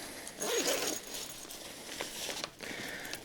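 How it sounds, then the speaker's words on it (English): A zipper pulled on the front pocket of a splash-proof duffle backpack, a short close rasping run followed by softer fabric handling and rustling. "you have the front zipper here that I have not talked about"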